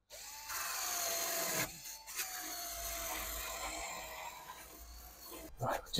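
A power sanding disc grinds steadily on metal of a Foden truck for several seconds, a continuous whining, rasping drone close by, stopping briefly once before running on again.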